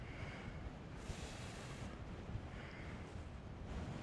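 Wind gusting across the microphone during a DJI Mini 4 Pro drone flight, a faint, steady rushing roar with surging waves of buffeting, no talk.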